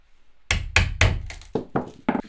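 Hammer blows knocking trim loose from a closet wall during a mobile home remodel: three heavy, ringing thuds followed by several lighter knocks, close and loud.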